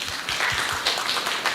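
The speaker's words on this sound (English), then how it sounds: "let's give them a hot applause and to thanks for his presentation" An audience at the ASEAN-China Silver Economy Development Forum applauds a presenter after his talk, a loud, dense burst of clapping that holds steady throughout.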